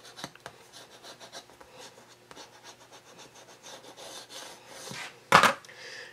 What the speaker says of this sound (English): Then you can go ahead and burnish it down